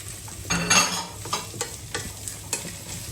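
Onions dropped into a frying pan that already holds carrots, met by a bright burst of sizzle, followed by several quick scraping stirs that repeat roughly every half second, close and clear, with no talking.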